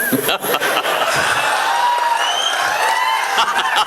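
Audience clapping and cheering at a Hindi poetry recitation by Hariom Panwar, a loud dense crowd roar with whoops and voices mixed in, sustained across the whole stretch.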